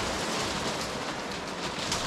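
Hail pelting down outdoors near a BMW R1250R motorcycle, a dense steady hiss of countless small impacts that stays loud and even throughout, with no voices.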